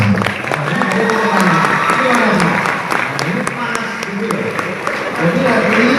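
Applause from the audience at an Islamic lecture at a campus anniversary event, steady sustained clapping with a speaker's voice carrying over it throughout.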